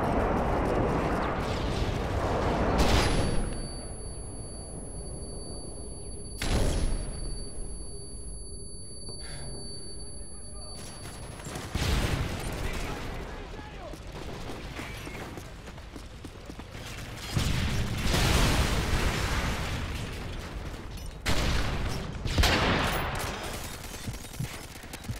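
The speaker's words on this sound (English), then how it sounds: "Friendly airstrike on the way." Explosions and gunfire from an airstrike in Call of Duty: Modern Warfare 3, with several heavy, booming blasts spaced through the stretch over a constant rumble of battle noise.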